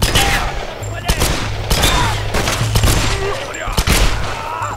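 Desert Eagle pistol gunshots in the video game Tomb Raider (2013): several sharp, loud gunshot cracks fire at uneven intervals over a steady in-game ambience, with no talking.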